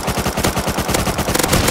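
Rapid automatic gunfire in the survival video game Rust, a loud, close burst of fast repeated shots with no pauses that lasts the whole moment.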